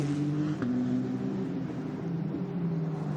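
Formula Regional single-seater race cars at the Zandvoort circuit, a steady droning engine note with sustained tonal whine and gear-shift dips, heard from a distance as the pack streams past.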